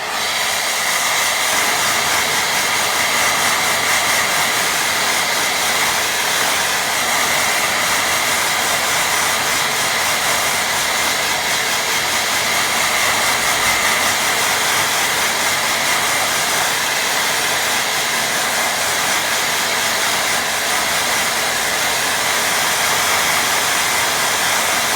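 Hair dryer blowing steadily on a watercolour painting of a sunny woodland scene, a loud, continuous close-up whoosh of air and motor hum with no break throughout.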